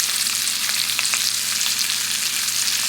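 Haddock pieces stir frying in a pan make a loud, continuous, close-up sizzle with faint crackles, steady for the whole stretch and with no voices.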